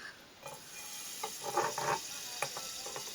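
Pancake batter frying in butter in a pan at a camp cooking setup gives a quiet, soft sizzle with a few brief, louder crackling bursts partway through.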